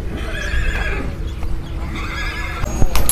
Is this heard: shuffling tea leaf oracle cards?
no